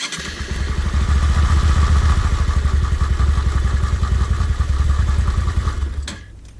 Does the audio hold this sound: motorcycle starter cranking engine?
yes